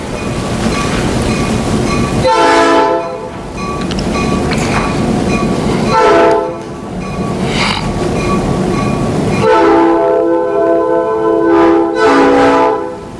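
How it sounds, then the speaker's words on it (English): A train passes close by during a city council work session, loud continuous rumble and rail clatter with repeated long horn blasts sounding several times across the stretch, no talk over it. "I'm not sure if I'll be competing with the train here."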